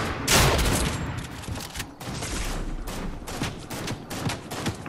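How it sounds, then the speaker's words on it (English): Dense video game gunfire in Fortnite, a rapid barrage of overlapping shots and bursts, some close and loud, others distant, continuing without pause throughout. "Look at them shooting far out"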